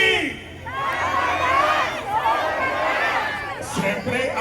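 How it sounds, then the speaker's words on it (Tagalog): Rally crowd at Liwasang Bonifacio, Manila, clapping and shouting together in a dense, sustained roar of voices, with a brief louder burst near the end. "ang husay yung palakpakan po na may kasamang sigawan"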